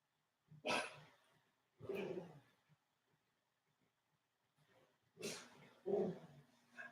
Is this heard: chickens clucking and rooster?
no